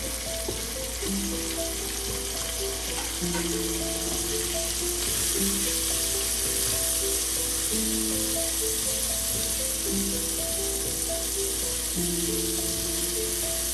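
Chopped onions and green chilies fry steadily in oil for an okra sabzi, making a continuous close sizzle over the full stretch while melodic background music plays alongside.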